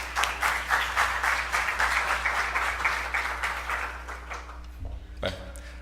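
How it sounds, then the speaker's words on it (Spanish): A talk audience claps in sustained, dense applause that fades toward the end, with a low steady hum beneath and a brief voice or noise near the close. "démosles un fuerte aplauso"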